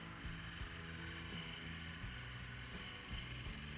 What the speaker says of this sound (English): I probably could slow my lathe down just a little bit, but this is drilling fairly well, no issues.